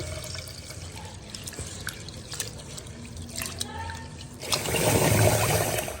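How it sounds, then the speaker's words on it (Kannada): Rice and flattened rice being rinsed in water, two or three washes, with close trickling, dripping and sloshing that builds to a louder swish of stirred water near the end. "ಇವಾಗ ಇದನ್ನು ಕ್ಲೀನಾಗಿ ತೊಳ್ಕೊಳ್ಳೋಣ ಒಂದು 2-3 ಸಾರಿ."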